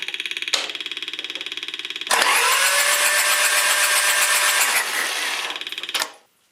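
A John Deere 755 tractor engine is cranked over with a rapid rhythmic starter clatter, then a loud sustained mechanical whir for several seconds before dropping back to cranking and stopping abruptly.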